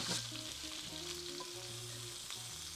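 Steak basted with garlic butter and rosemary sizzles steadily in a hot pan indoors, a close, continuous crackle with no talking.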